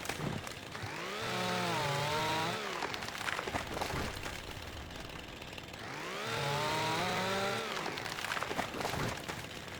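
A premium chainsaw cuts trees in Farming Simulator, surging through two sustained whining revs several seconds apart, with a low idle rattle between them, quiet and without speech.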